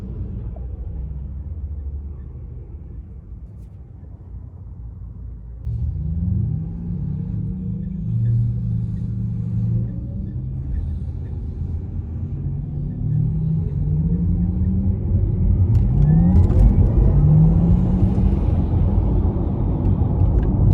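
A 2020 Porsche Taycan 4S electric car in sport mode: a low motor hum builds into a rising, whining acceleration, growing steadily louder and rumbling up close over about twenty seconds.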